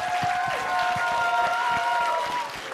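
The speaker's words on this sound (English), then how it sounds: "we got to give a huge round of applause for Ian for making this thing happen." Applause from an audience at a creator boxing event weigh-in, a steady wash of clapping and crowd noise that fills the whole moment, with a sustained tonal hum running underneath.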